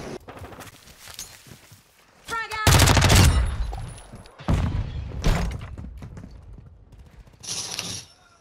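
Gunfire in the Modern Warfare II video game: a few sharp, loud rifle bursts, some in quick rapid strings, separated by quieter gaps with footsteps and faint game sounds.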